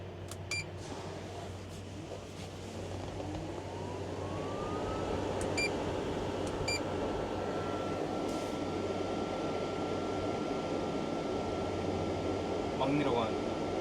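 An engine-off parking air conditioner fitted to a two-seat Hyundai Starex 5 cargo van with an upgraded battery runs as a steady broadband whoosh with a low hum, a faint rising tone and occasional clicks.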